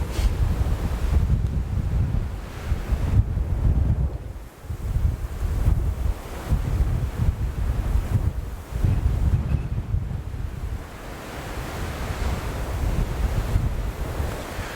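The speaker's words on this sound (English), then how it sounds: "I'm going to wait for a break in the wind" Strong gusty wind of up to 70 mph sweeping through the Rocky Mountains, roaring and buffeting loudly and continuously with brief lulls, no talking.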